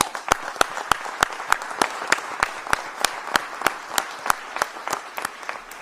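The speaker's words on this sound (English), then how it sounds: "I want to give y'all a round of applause." Crowd applause inside a Home Depot store in Pensacola: a steady run of sharp, evenly spaced claps over a dense bed of clapping hands, moderately loud and without talk.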